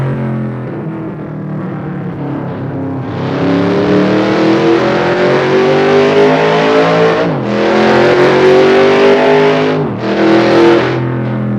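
A 1971 Dodge Demon with a 340 V8 twin-four engine revs hard from a steady idle, climbing to a loud, raspy roar, dropping briefly and surging again twice, close and powerful.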